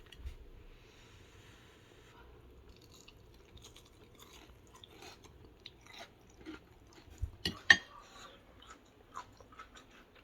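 Crunchy fried Burmese-style lentil tofu, sliced thin and pan-fried over medium-high heat, chewed close to the mouth: soft steady crunching with a few sharper, louder bites toward the end.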